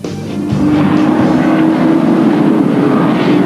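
Race cars at Pukekohe in a 1996 TraNZam Lights race roar past in a loud, continuous engine drone with a steady rising pitch, building sharply after the first half second and holding strong throughout, no voices.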